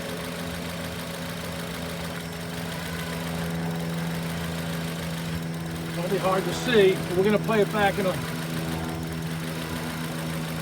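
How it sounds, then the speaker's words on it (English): A car engine idles steadily, then stumbles and labours in a series of uneven bursts before settling again, with a person speaking over it. "You can hear the engine kind of labor and just cut out ever so often."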